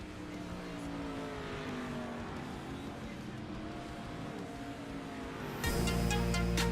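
Race cars circling during a two-minute warm-up session at a money race, a continuous distant engine drone with shifting revs, swelling louder near the end.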